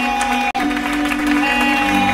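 A congregation claps and cheers in acclamation of the Lord at a prayer and deliverance marathon. The steady applause sits over sustained musical tones, with one brief dropout early on.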